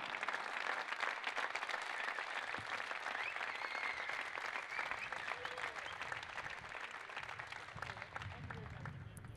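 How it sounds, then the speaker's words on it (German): A crowd gives sustained, even applause at a 2019/20 Hannover football club farewell ceremony for departing players; the clapping is dense and continuous, heard from a moderate distance, with faint talk beneath it. "Also noch einmal bitte einen herzlichen Applaus"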